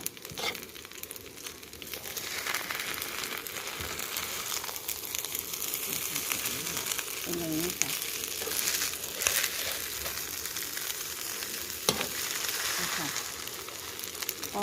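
Egg fried rice stir-fried in a wok gives a steady, close sizzle with scraping and crackling that runs without a break the whole time.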